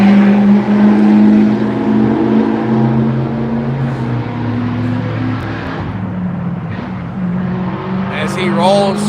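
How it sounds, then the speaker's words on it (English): A car's exhaust as it rolls through a small town on Highway 72, a loud steady low drone close by that holds throughout, swelling slightly near the end with a faint tonal sweep. "As he rolls through town with that exhaust."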